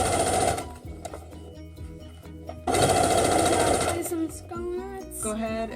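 Sewing machine stitching a biscuit quilt, fast mechanical stitching in two loud runs separated by a quieter pause, with some clicks and handling noise near the end.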